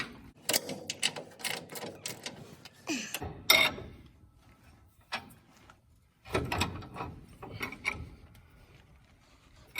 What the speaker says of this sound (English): Tightening the shock. Got to back it with a 3/4 inch on the back side.